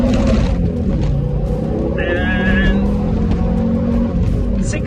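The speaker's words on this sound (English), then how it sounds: "about to see how fast I can accelerate off, which I don't reckon I've done for about 20 or 30 years" A BTCC Supertourer Volvo 850 replica pulls away hard from traffic lights, heard from inside the car. The engine roars loud and dense throughout, with a brief tyre squeal in the middle and people talking over it.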